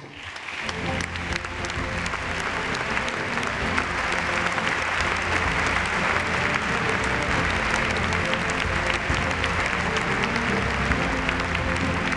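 Sustained audience applause fills a formal award gala hall, dense and steady clapping from a large crowd, loud and continuous for about twelve seconds with no speech over it.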